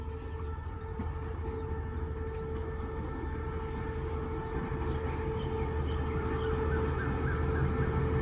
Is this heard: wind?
no